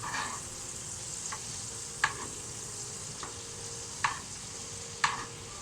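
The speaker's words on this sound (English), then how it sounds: "So we're just basting it now." Chicken legs sizzle steadily in a frying pan while being basted, a soft constant fry broken by a few sharp spoon clinks against the pan.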